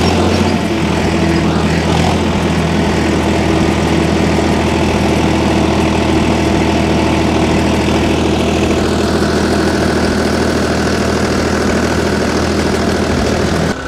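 A Farmtrac 45 tractor engine runs steadily in second gear, a loud continuous low diesel drone that holds its pitch for the whole stretch with no talk.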